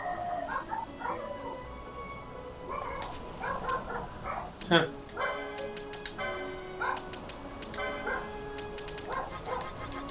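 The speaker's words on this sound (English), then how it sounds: "yes I can hear dogs, yes it sucks" Dogs yip, whimper and bark in the background during a Final Fantasy XII: The Zodiac Age livestream, scattered short yelps over game music and sound effects, with a brief voice now and then.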